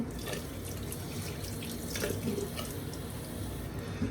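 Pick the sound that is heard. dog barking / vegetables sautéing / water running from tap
water running from tap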